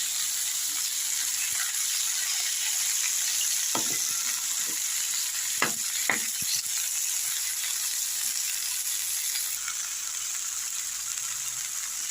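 Pumpkin pieces sizzle in a hot pan for a vegetarian dish, with a constant close hiss of frying broken by a few sharp clinks and scrapes from stirring.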